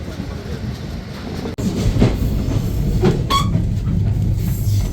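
Chitra Express train pulling out of the century-old British-built Ishwardi Junction railway station, heard from inside the carriage as a steady low rumble with rhythmic wheel clacks and occasional creaks, loud and continuous.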